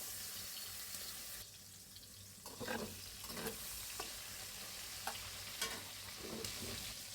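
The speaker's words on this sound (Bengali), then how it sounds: "আমার মাছটা ভাজা হয়ে গেছে," Fish fries in hot oil for a prawn and bitter gourd dish, a faint steady sizzle with scattered soft scrapes of a spatula, quiet and close with no voices.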